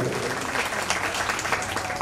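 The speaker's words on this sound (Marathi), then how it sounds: "या देणगीदारांसाठी टाळ्या झाल्या पाहिजे" An audience at a Shiva Purana recitation event in Jalgaon applauds temple donors, dense continuous clapping filling the space at full volume without a break.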